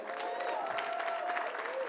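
Audience applause fills a county address hall, steady and dense throughout, with a faint tonal hum running underneath.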